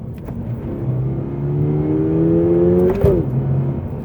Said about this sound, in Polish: mamy wolno ssący czterocylindrowy silnik